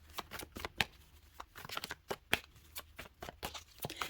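Tarot cards being shuffled by hand, a quick series of crisp riffling flicks and soft slaps close by, with no talk over them.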